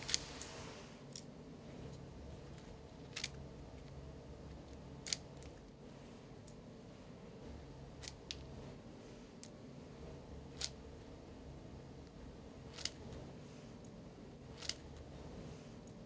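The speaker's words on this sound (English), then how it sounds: "a leaf is first cut up into small pieces using scissors" Scissors snip a plant leaf into small pieces during a school chromatography lab, about a dozen sharp, separate clicks spread unevenly over a quiet room background with no talking.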